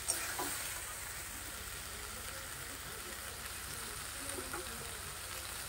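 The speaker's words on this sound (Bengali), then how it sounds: "এই দেখো আমি কচ্ছপের মাংসটা রান্না করছি" Turtle meat sizzles in a pan, a steady soft hiss of frying with faint crackles and an occasional stir, quiet and continuous throughout.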